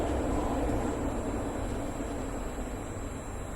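BAE Hawk jet rolling out on the runway after landing under gentle braking, a steady broadband roar of engine and wind noise with a faint high whine, continuous and slowly easing.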